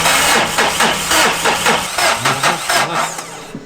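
A Mazda 2.2 diesel engine cranks over with its injector connectors unplugged, a loud, close starter whirring in a steady rhythmic chug of about a dozen compression pulses without firing.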